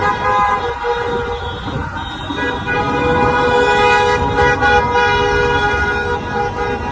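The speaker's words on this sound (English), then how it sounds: "Look, they out there honking it." Car horns honking together in a street protest, a sustained chorus of overlapping toots and blares that holds fairly loud for several seconds with traffic rumble underneath.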